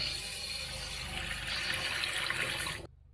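Water runs steadily into a vintage camper sink and drains with a close, even rushing hiss that stops abruptly near the end.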